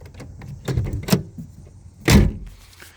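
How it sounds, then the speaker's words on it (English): Power windows on a 1994 Buick Century whir in short bursts, with a couple of louder thumps and clunks from the rear door and window mechanism, close up. "You got your power windows down here,"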